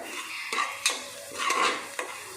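One medium onion sautéing in a pan for egg rice, with a soft sizzle under several distinct scrapes and stirring strokes of a utensil against the pan.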